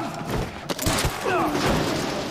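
Gunfire from the Quantum Break video game: a close, loud fusillade of shots and thuds, mixed with speech and game effects.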